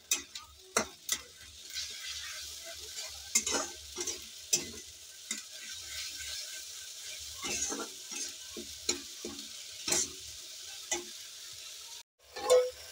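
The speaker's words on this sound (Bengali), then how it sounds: "এবার ভালো করে আমি মশলা কষিয়ে নেব।" A paste of coriander and cumin fries in a pan over a gas flame, with a soft sizzle under repeated scraping stirs from a spoon. The strokes are close and fairly quiet, and no one speaks.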